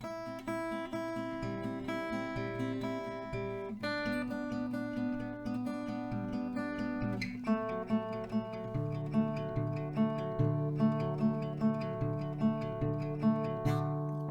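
An acoustic guitar picks out a melody over ringing chords, with notes plucked in a steady, flowing pattern; no voices.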